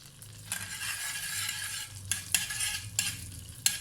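Cardamom powder and cardamom peel sizzling in melted butter in a pan, a steady crackling fry punctuated by several sharp scraping stirs of a spoon against the metal.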